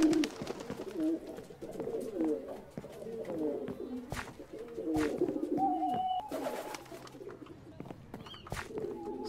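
Soft, repeated cooing and hooting of birds inside the owl shop on Diagon Alley in Minecraft, low and fairly close, with a person talking over them and a few clicks scattered throughout.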